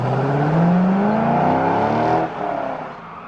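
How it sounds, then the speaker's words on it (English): A Corvette Z06 with an LS6 engine and specially tuned mufflers accelerates with a low, sporty exhaust growl, the pitch rising steadily as the revs climb, then easing off near the end, loud and close. "The mufflers have been specially tuned to deliver a low, sporty growl that's distinctive to the Z06."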